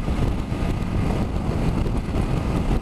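Steady, loud wind buffeting on a Yamaha MT-10 motorcycle during a ride on a windy day, a continuous broadband roar with no speech.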